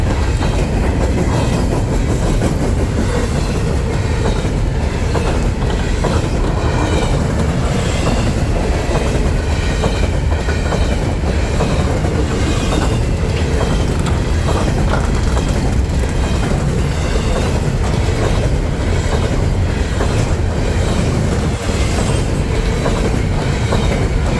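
A freight train of empty garbage containers rolls past close by, a continuous loud rumble with rhythmic clickety-clack of wheels over rail joints and occasional squeals, steady for the whole stretch.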